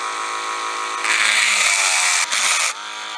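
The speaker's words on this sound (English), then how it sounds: "So a drill bit in my Dremel, and got it set on low." A Dremel rotary tool fitted with a drill bit runs at its low speed setting while finishing dice, giving a steady high-pitched whine that grows louder and harsher for about two seconds, then eases back to a softer hum.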